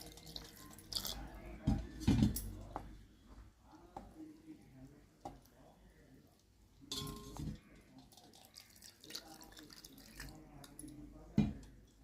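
Water splashes and sloshes in a bowl, with a few clinks against the side, in short bursts close by.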